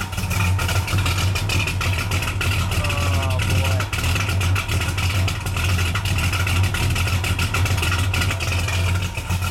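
A 1968 Dodge Coronet R/T with a 440 engine runs steadily at close range, a strong low idle rumble holding throughout with a faint hint of revving, while people talk briefly nearby.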